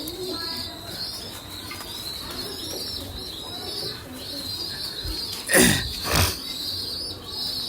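A flock of racing pigeons is released and takes off, with two loud bursts of wing flapping near the end over a steady outdoor background and soft cooing.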